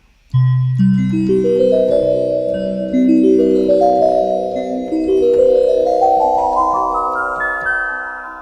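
Layered synth notes in a Lydian scale climb steadily upward in a smooth melodic line, each tone sustaining and blending into the next at a full, even volume.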